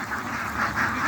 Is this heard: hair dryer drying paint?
no